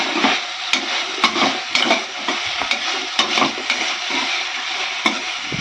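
Chicken for dragon chicken is stirred in a sizzling frying pan, with steady frying hiss under rhythmic scraping and clinking strokes of the spoon.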